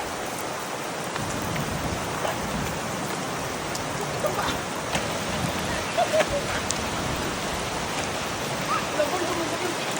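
Steady rain falls outdoors, a dense continuous hiss with scattered drop ticks throughout, fairly loud and even, with no clear voices over it.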